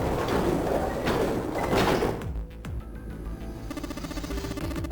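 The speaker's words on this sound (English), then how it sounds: "On Junpei's signal, they pushed, and the gate creaked open." In the video game 999, a heavy gate is pushed open, a grinding, scraping sweep lasting about two seconds, followed by a faint mechanical hum and soft electronic tones.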